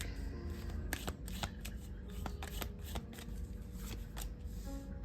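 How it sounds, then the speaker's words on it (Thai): Tarot cards are shuffled close up, a continuous run of papery riffles and sharp snapping flicks repeating irregularly over several seconds. "ขอล้างไพ่นิดนึง"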